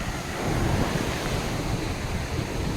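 Sea waves washing onto a black-sand beach in Kerala, a continuous close roar of surf with wind rumbling against the microphone and no voices.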